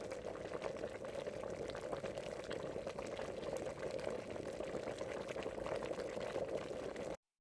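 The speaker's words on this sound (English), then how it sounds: "Now that we've got that boiling" Continuous bubbling and gurgling of water at a rolling boil in a pot, steady and close, with no voices.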